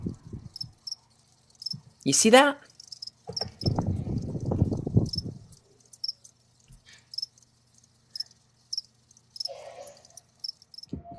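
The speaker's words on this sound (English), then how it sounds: "this was the sound of crickets making little chirping noises at night" Crickets chirping at night in short, regular high-pitched bursts throughout, fairly faint and steady, while a person speaks briefly and other louder noises intrude at times.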